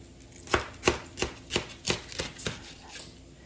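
Vegetables being chopped with a knife on a board: about eight sharp, evenly spaced chops, close and fairly loud, with no talk over them.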